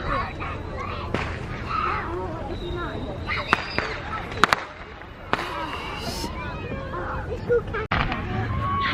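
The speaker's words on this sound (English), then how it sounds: "we could watch fireworks" Fireworks burst over Indian Lake on a July evening, a few sharp scattered bangs and crackles at a distance over steady crowd murmur, with people chatting nearby.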